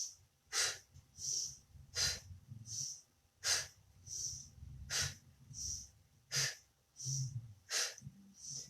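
Slow, rhythmic yoga breathing, each inhale and exhale a broad airy hiss close to the mic, about a dozen even breaths over a low background rumble with no talk.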